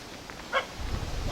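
Dogs in a rural English village give a single short bark at moderate distance, followed by low rustling and movement noise.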